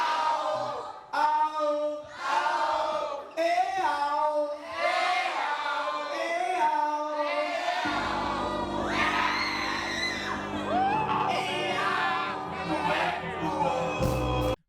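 Concert crowd singing and cheering loudly at a live show, many voices chanting a melody together, then heavy bass-driven music drops in partway and the roar continues over it, sustained and close.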